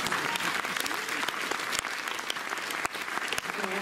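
Audience at a film screening discussion with Céline Sciamma and Adèle Haenel bursting into applause, a dense, sustained clapping from a full room, loud and continuous with scattered sharper claps.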